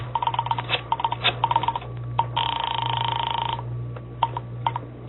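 A telephone is dialed in an old-time radio detective drama: a run of short clicking, ticking tone bursts, then one sustained steady tone, with more clicks after it, all over a constant low hum and with no talk.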